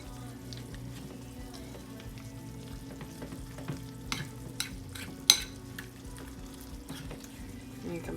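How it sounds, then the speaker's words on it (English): Crockpot dinner ingredients being stirred together, soft wet scraping and mixing strokes with a few sharper knocks of a spoon against the pot, fairly quiet under a low steady hum. "I'm going to stir this up"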